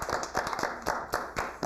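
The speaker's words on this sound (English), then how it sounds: "Audience, let's give him a clap." A small audience in a modelling class claps for the actors, a short burst of distinct, fairly quick, slightly uneven handclaps heard close by.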